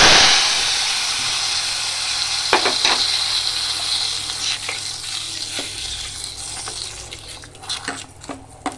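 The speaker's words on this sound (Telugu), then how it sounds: "ఇప్పుడు ఇది పోపు కూడా వేద్దాం" Tempering spices hit hot oil, sizzling and hissing loudly at first, then settle into steady frying with a few scattered clinks of a spoon against the pot.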